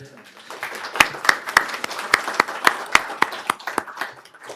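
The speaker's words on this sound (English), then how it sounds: "The applause is we're loving it." Audience applause at a Newberry city commission meeting, a loud sustained patter of many hands with prominent individual claps, steady throughout and close.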